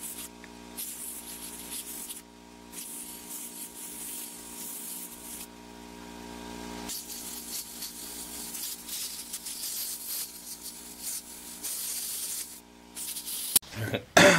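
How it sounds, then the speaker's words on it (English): Compressed air blasting grime out of a Milwaukee power tool produces long, hissing sprays in close bursts with brief gaps between them. A few sharp clatters are heard at the end. "it's pretty grimy right here, so I think I need some forced air"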